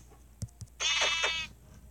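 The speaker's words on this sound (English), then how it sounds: "Is there a baby sheep?" A baby sheep in the video game Minecraft bleats once, a short, fairly close wavering call of under a second after two faint clicks.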